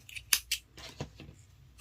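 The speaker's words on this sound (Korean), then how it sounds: "실을 잘라주세요" Scissors snip crochet yarn in a few quick, crisp cuts close by, with quiet handling noise between them.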